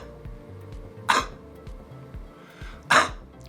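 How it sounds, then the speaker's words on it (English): Two separate throat-clearing bursts, a deliberate technique for clearing mucus, stand out at moderate loudness against a quiet room hum, spaced a couple of seconds apart. "it's more of a clearing of the throat"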